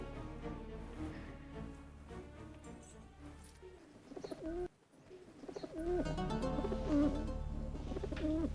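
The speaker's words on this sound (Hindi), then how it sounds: "तो ये आवाज कबूतर की नहीं तो क्या मुर्गी की है?" Soft pigeon cooing in a quiet setting, low murmuring calls repeating, fairly faint with some background noise and a brief lull midway.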